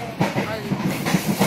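A passenger train carriage rolls on rails on the way from Senen to Malang, with a steady rumble and hiss and a soft, regular clickety-clack under voices talking inside the carriage.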